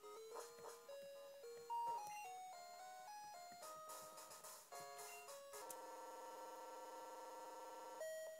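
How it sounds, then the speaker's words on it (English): A melodic electronic jingle plays as an elevator runs in the Touhoumon video game: a steady, loud chain of bright beeping tones stepping through a tune, then settling into a sustained repeating pattern near the end. "That is a very ominous sounding elevator."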